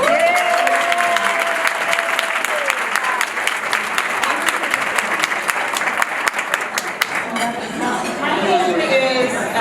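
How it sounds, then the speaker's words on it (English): Sustained applause from a large crowd, steady and loud throughout, with a few clinks of dishes and cutlery mixed in. "I would just like to ask for a round of applause for our commissioner"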